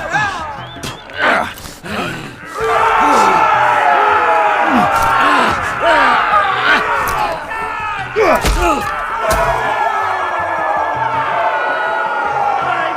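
An arena crowd roars and cheers throughout a Game of Thrones video game fight, loud and sustained, with shouts, bellows and sharp impacts rising over the din.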